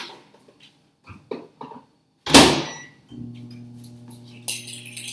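Covered rice going back into a microwave oven: a few soft clinks and handling taps, a loud thunk of the door closing, then the oven's steady hum with short beeps.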